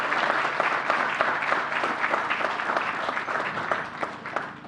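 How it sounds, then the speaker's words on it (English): Steady applause from an audience at an outdoor press briefing at Jones Beach, a dense wash of many hands clapping continuously at moderate loudness with no talk over it. "Give New Yorkers an applause, round of applause."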